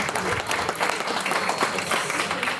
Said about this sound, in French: on peut les applaudir fortement